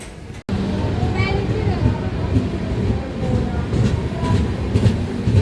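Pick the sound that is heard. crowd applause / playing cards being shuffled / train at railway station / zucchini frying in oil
train at railway station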